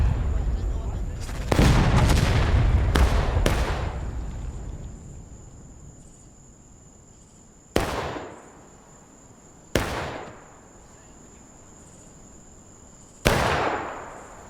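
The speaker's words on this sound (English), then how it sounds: "let's hopefully see some more of that from the Union artillery" Union artillery booms in a Civil War battle game set in the Maryland Campaign: a cluster of loud cannon blasts early on, then three more spaced reports, each rolling away into a long echoing decay.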